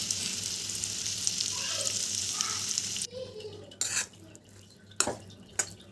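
Mango coconut pickle stirred into a hot tempering of curry leaves, dried red chillies and asafoetida with the stove off: a steady close hiss for about three seconds, then quieter scattered scrapes and clinks of a spoon against the pan.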